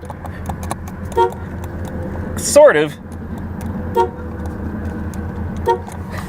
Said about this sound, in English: Let's try out the horn.